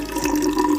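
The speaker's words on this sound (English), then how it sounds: "Okay, pour some vinegar in here." Vinegar is poured into a jar of ramen noodles, giving a continuous close liquid gurgle and trickle for just under a second.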